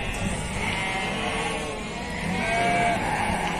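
Sheep at a livestock market in Beyləqan bleat faintly in drawn-out calls amid a continuous low rumble of crowd and engine noise.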